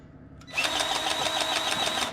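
A grease gun pumps grease into a driveshaft U-joint on an articulated dump truck. After a faint click, a loud close mechanical buzz starts and holds steady for about a second and a half, carrying a quick rhythmic pulse.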